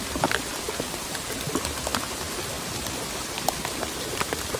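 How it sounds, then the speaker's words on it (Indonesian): Steady rain falling outdoors during a catfish fishing trip, a dense continuous hiss of drops with scattered brighter patters, close and moderately loud, no voices. "Ini hari hujan, kita buka mantel dulu."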